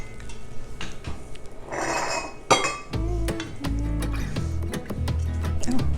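A utensil scrapes and clinks against a bowl while chocolate oatmeal cookie batter is stirred, the clatter coming in an irregular rhythm with tonal rings off the bowl, close up and without talk.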